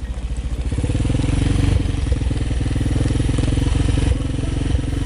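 A quad four-wheeler engine idles steadily and loudly up close after hard, fast riding, its running hot, with a rough, chugging pulse that holds even throughout.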